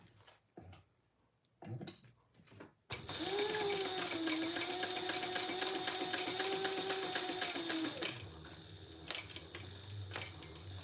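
A sewing machine stitches a bag in one sustained run of rapid, even whirring lasting several seconds, close by, with handling clicks before and after.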